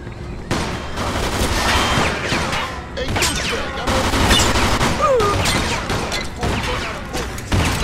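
Dense gunfire and impacts during a shootout in the Mafia II video game, a continuous loud barrage of shots and crashes with little pause.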